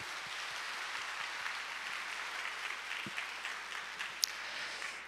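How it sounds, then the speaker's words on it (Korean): A church congregation claps steadily at a Sunday morning Korean worship service, a soft, even, roomy patter heard at a distance. "우리 하나님께 영광의 박수 다시 한번 크게 올려드리겠습니다"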